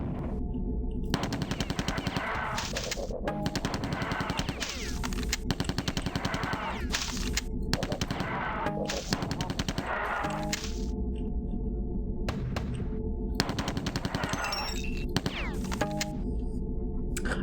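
An SMG fires in Marathon Infinity in rapid bursts of sharp, loud shots. Brief pauses break up the bursts, and a faint ringing tone hangs underneath.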